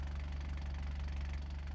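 A Lada's engine idles in a video game with a low, even, pulsing rumble, steady and close, with no one talking over it.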